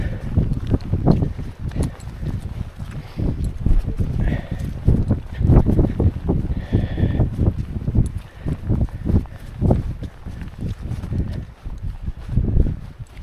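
Wind buffets the microphone on an open hillside, a continuous gusty rumble with some rustling and uneven thumps that could be footsteps throughout.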